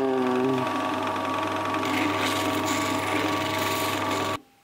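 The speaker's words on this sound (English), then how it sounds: "I'm going to use this abrasive wheel. It's got little teeth all around it on the pillar drill." An abrasive wheel with small teeth spun on a pillar drill gives a steady, loud grinding whine that holds for about four seconds and then cuts off abruptly.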